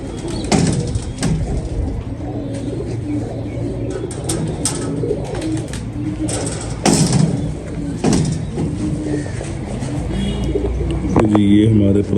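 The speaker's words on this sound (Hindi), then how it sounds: "ये हमारे पुराने कबूतर फिरोजपुरी 29 नंबर कबूतरी है।" Ferozpuri pigeons cooing in a loft, soft low repeated coos with occasional wing flutters and clatter, while someone talks nearby over them.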